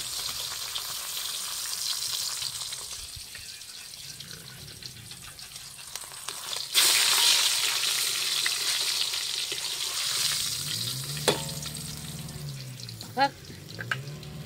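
Food sizzling in a pot over a wood-fired clay stove, a constant frying hiss with faint background noise and a few brief clinks near the end.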